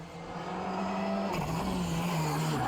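A Porsche GT rally car races past on a Madeira rally stage, its engine note loud and close, rising and shifting pitch as it changes gear mid-pass, alone without talk.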